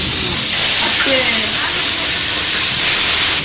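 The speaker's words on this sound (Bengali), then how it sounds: "এবার শাকের বেগুনটা ভেজে দিচ্ছি এখানে নুন আর হলুদ দিয়ে দিলাম" Eggplant frying in hot oil with salt and turmeric for a rice-ceremony feast, giving a steady, loud sizzling hiss that runs unbroken through the clip, with a brief faint voice in the background.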